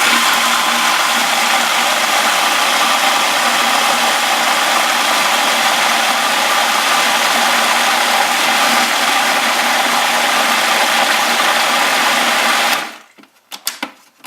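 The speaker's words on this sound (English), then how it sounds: "I'm just going to keep pureeing until it's all done." Blender pureeing homemade tomato soup, a loud, steady motor whir running continuously for about thirteen seconds before cutting off, followed by a few faint clicks.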